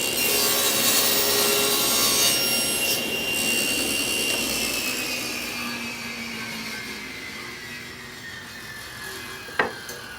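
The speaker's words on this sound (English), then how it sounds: "head back over to the saw and make our cut" Power saw cutting a wood piece for a simple face frame cabinet, a loud close whine that gradually slows and drops in pitch as it spins down, with a brief click near the end.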